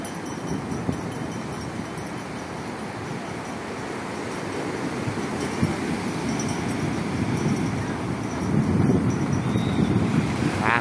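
Ocean waves and gusting wind along the shore at Mariveles, Bataan, a steady loud wash of surf buffeting the microphone, growing rougher toward the end, with no talking.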